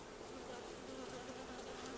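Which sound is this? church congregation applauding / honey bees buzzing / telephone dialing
honey bees buzzing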